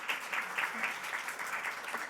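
Audience applause at a National Assembly forum on a special act for special cities, welcoming a People Power Party lawmaker; steady moderate clapping from a seated crowd throughout, with no talk over it.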